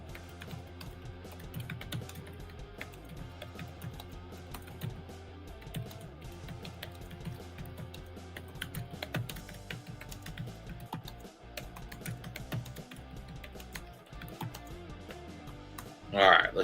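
Typing on a computer keyboard during a live stream: quiet, irregular clicks of keystrokes that run throughout under a person talking.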